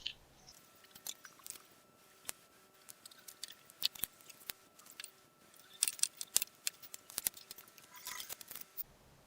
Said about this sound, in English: I'm just going to get a X-Acto knife and cut that off.